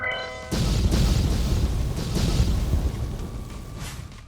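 A fire spell explodes in an anime battle, a sudden deep boom followed by a sustained roaring burn of flames, after a brief tonal tail from the preceding moment.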